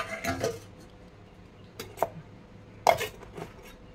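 A pot of cooked rice set on top of a pot of dal: a few sharp metal clanks and scrapes spaced over several seconds, close and fairly quiet in a still kitchen.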